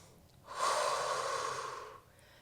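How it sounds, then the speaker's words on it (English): A single long, deep breath during a Pilates abdominal stretch on a mat: a steady, close, airy rush of air lasting about a second and a half, with no talking. "Breathing deeply in through the nose and out through the mouth."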